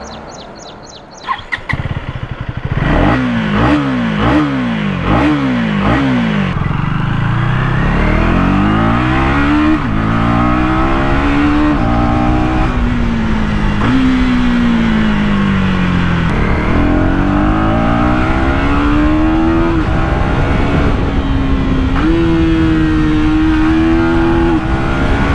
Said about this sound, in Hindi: आपको मैं पहले एग्जॉस्ट की साउंड सुना देता हूँ।